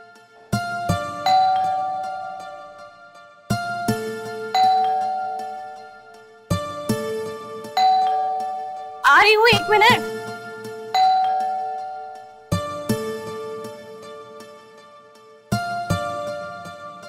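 A doorbell rings again and again in a home, each press giving a bright ding-dong chime that rings out and fades, with a burst of several fast presses in the middle.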